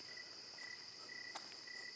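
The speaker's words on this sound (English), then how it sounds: "Why are the frogs still hollering?" Faint night chorus of frogs croaking outdoors, a steady high trilling drone with short repeated calls, distant and without voices.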